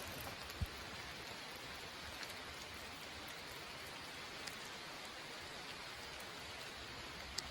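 Steady rain falls outdoors in a natural setting, a soft even hiss with occasional faint drop taps, fairly quiet and continuous with no voices.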